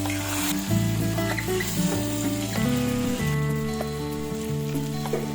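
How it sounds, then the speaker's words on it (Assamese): Potatoes and chicken frying together in a pan, with a soft continuous sizzle and occasional stirring scrapes close by, under a sustained tonal drone. "অলপ লৰাই দিম।"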